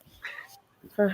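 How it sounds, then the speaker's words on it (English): A female cat in heat, unspayed, lets out a couple of short meows, the second louder and clearer, in a quiet room. "If you can hear, that's my cat."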